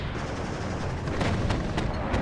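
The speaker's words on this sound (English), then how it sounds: "They have that 100mm cannon." A 100mm tank cannon fires amid a large 10v10 battle in the Cold War video game WARNO, a rolling din of heavy gunfire with several sharp booming reports over constant low rumble, no voices.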